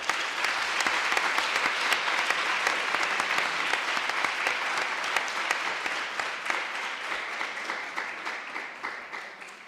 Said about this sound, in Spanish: Primero le damos un aplauso, si os parece bien.